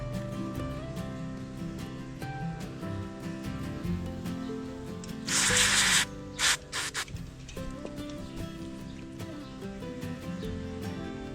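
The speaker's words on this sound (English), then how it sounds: "so you use your disc cleaning spray, spraying it. It removes the dust quite easily." Brake cleaner aerosol hisses in several short bursts into the front brake caliper of a 2018 Triumph Bobber Black motorcycle, a loud spray followed by quick sputtering puffs over steady background music.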